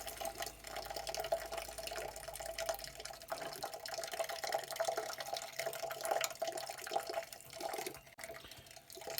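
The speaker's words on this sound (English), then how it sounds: "You can hear there's still some more water coming out of there." Water runs and trickles from a leaking utility sink faucet in a continuous, fairly faint stream with small splashy variations, and no speech.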